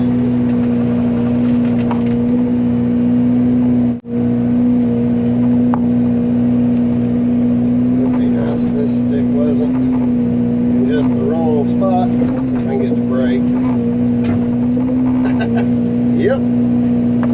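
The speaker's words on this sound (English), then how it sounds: "I'm going to perch the excavator up on that little hill there so I can load that brush into the dump truck" Excavator engine idling steadily at a property cleanup site where brush is being loaded into a dump truck, a constant loud low drone with faint clanks and rattles over it and a brief dropout partway through.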